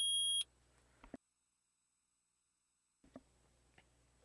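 A short electronic beep from a recording played in the Phoenix Wright: Ace Attorney video game, a single sharp tone at the start followed by faint clicks, a long silent gap, then soft blips.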